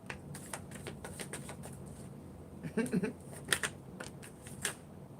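Tarot cards riffled and shuffled by hand in short, crisp bursts of papery clicks and flutters, quiet and close, repeating irregularly across the moment with faint background voices.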